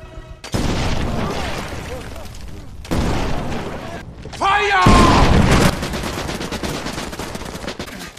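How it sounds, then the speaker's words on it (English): Gunfire from a war film soundtrack comes in three loud bursts of rapid shots and blasts with brief gaps between them, mixed with an explosion-like boom and dense action noise. "The Nazis begin firing in his general direction"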